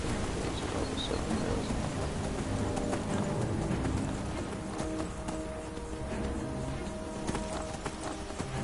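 Horse hooves clip-clopping up stone steps in the video game Skyrim, a steady close run of hoof strikes over a busy ambient game background.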